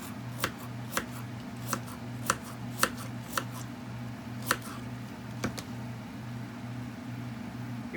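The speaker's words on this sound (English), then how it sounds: "I like to eat as I cut it, so sometimes all the celery doesn't get to go into the soup." Celery being chopped on a cutting board for chicken soup: about ten sharp knife strikes at an uneven pace over a steady low hum, close and fairly quiet, with no talking.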